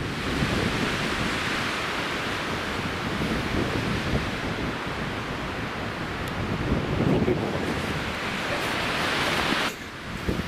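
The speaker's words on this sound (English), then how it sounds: "It's still windy." Steady wind gusting outdoors on a boulder-strewn forest walk, a loud broadband rush that holds for about ten seconds and briefly dips near the end, with no talk.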